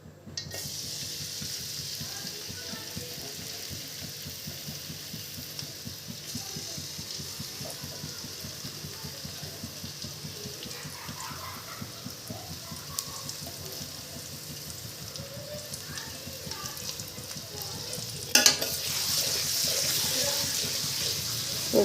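Chopped garlic fries in hot oil for a Chinese vegetable dish, a soft steady sizzle with faint stirring clicks, swelling into a louder hiss near the end.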